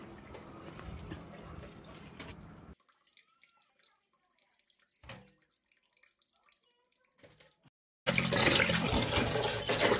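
Tap water runs over fish pieces as they are rinsed for a Vangon fish masala curry, with a steady splashing stream at the start that stops, a few soft drips and clinks in near-silence, then a louder gush of water at the end.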